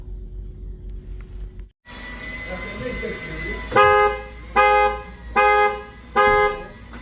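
A Seat Leon FR's alarm horn honks four times in a steady rhythm, each blast short and loud, after a brief electronic chirp and background murmur.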